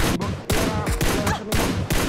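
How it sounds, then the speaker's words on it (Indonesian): Gunfire in PUBG Mobile, several sharp bursts of close shots in quick succession with brief gaps between volleys, loud and without talk. "Woi, ada lagi yang nembakin aku"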